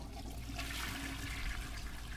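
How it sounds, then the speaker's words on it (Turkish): Toilet flush in the horror video game The Baby in Yellow, a steady rushing of water lasting a couple of seconds, moderately close with no talk over it. "Sifonu çek."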